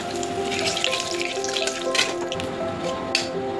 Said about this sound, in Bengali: কড়াইতে নিয়েছি সাদা তেল, দিয়ে দেবো জিরে, একটু জিরে বেশি করে দিয়েছি। এবার এর মধ্যে দিয়ে দেবো হিং